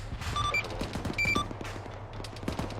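Gunfire from the Arma 3 military game crackles in scattered, rapid bursts of shots at a moderate distance, with a few sharp electronic tones over a low steady hum.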